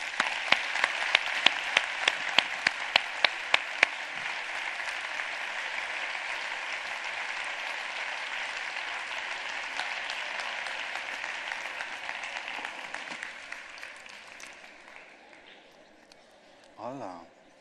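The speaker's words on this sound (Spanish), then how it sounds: "Y ahora os aplaudís todo lo que queráis" An audience at a school meditation program applauds, opening with several sharp, evenly spaced unison claps, then swelling into loud, sustained crowd clapping that fades away, followed by a brief voice.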